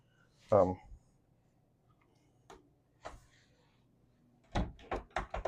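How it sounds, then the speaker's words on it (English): A secret door on a 2024 Fairline Phantom 65 yacht opens with a loud clunk, followed by a few faint clicks and a close run of sharp latch and handle knocks toward the end. "I knew this was a secret door."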